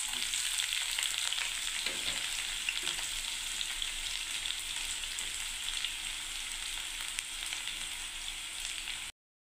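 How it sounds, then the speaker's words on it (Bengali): Onions fry in oil in a pan after peanuts, a steady close sizzle and crackle with a couple of soft stirring scrapes early on, ending abruptly. "পেঁয়াজটাকে ভাজছি"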